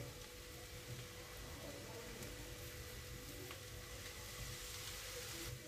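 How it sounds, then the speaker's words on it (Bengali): Mixed chowmein with vinegar being stirred in a frying pan, a faint, even crackling sizzle that runs unbroken, with occasional soft scrapes of the stirring utensil. "2 চামচ ভিনিগার দিয়ে ভালোভাবে নাড়াচাড়া করে নিচ্ছি"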